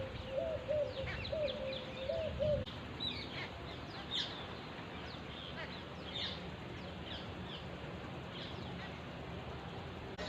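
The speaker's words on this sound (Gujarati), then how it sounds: "હવે ચકલા આવી ગયા છે" Faint sparrow chirps and tweets come and go over a low outdoor background, with a brief repeated call near the start.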